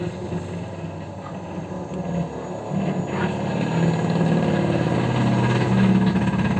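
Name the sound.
noisy tora-tora motorized cart engine passing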